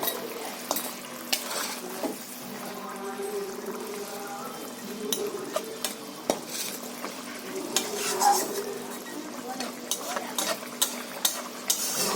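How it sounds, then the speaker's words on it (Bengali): Pieces of fish go into a curry gravy simmering in a pan, giving soft bubbling and sizzling with scattered utensil scrapes and clinks against the pot, close up and without talk. "ঝোলের মধ্যে মাছটা দিয়ে দিই, মাছগুলো দিলাম"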